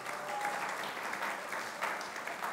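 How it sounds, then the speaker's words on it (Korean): Applause from a church congregation during a Sunday service, a steady patter of clapping held at an even level throughout. "박수."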